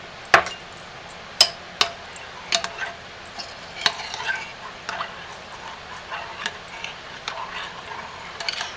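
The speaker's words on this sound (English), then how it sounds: "We're going to stir well" Activated charcoal being stirred into melted melt-and-pour soap, with irregular clinks and scrapes of a utensil against the container, sharp and close, against a faint background hiss.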